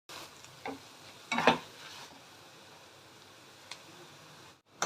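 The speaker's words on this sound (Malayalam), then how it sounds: "കുറച്ച് ടർമറിക് പൗഡറും കൂടി ആഡ് ചെയ്യാം. എന്നിട്ട് നല്ലപോലെ ഫ്രൈ." Lady finger okra fries with turmeric powder in a pan, producing a soft, faint sizzle broken by a few quick stirring scrapes, all fairly quiet.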